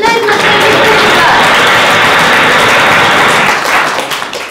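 Loud, dense applause from a school audience at a fourth-grade graduation celebration, steady and sustained for several seconds before tapering off at the end.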